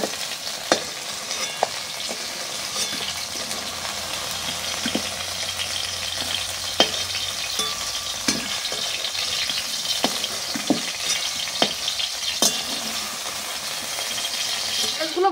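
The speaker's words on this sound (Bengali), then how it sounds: "হালকা হালকা করে ভেজে নেবো, যেন ঢেঁড়সগুলো সবুজ সবুজ ভাবটা থেকে যায়।" Okra frying lightly in oil, a steady close sizzle with scattered clicks and scrapes of stirring throughout.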